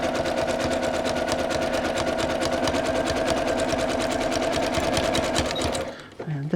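Digital sewing machine stitching fabric for a ring sling, a fast rhythmic mechanical chatter of rapid needle strokes, close and steady, ending with a brief stop and whirring trim sound.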